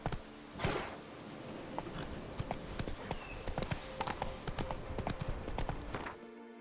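Horse hooves clip-clopping at a steady walking rhythm in The Witcher 3, close and clear with a brief snort near the start, continuing until the sound cuts off abruptly.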